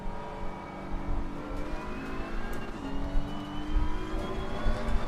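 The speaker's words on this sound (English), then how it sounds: "The engine sounds cool." Race car engine in the Assetto Corsa Competizione sim at Suzuka, a steady whining drone with rising and shifting pitch as the car accelerates through the gears, loud and continuous with no talk.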